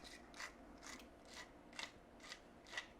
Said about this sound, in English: We're going to grind in a lot of pepper.